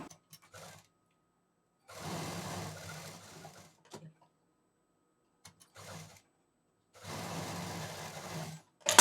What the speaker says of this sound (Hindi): इसके नीचे से डबल मशीन चलाते हुए यहाँ तक सिल देंगे दोनों साइड में